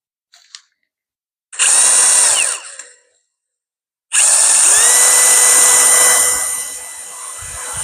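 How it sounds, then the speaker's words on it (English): A DeWalt power drill whirs loudly in two bursts drilling a pilot hole for a gate repair, a shorter run followed by a longer sustained spin with a steady high whine, close by. "So we got our pilot hole drilled."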